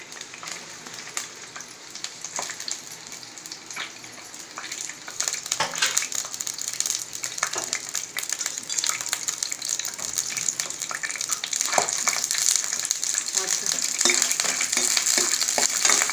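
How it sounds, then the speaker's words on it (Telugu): Onions and green chillies sizzle in hot oil for a fish curry, a steady frying hiss that grows louder and denser toward the end. "మొత్తం వేగించుకోవాలి, బ్రౌన్ కలర్ వచ్చేంత వరకు వేగించుకొని"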